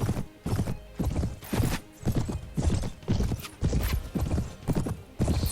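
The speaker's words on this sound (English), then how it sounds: "I'm riding a wonderful horse" Horse hooves clip-clop in a steady, loud, rhythmic gallop while riding in the Mount & Blade video game (Prophesy of Pendor mod), with a brief whinny mixed into the hoofbeats.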